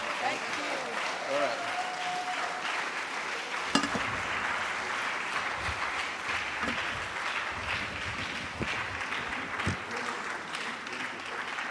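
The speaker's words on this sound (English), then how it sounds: "Let the applause continue till they sit down." Sustained audience applause at a talk show's season finale, a broad steady patter of many hands clapping under a presenter's voice, with a few sharp clinks along the way.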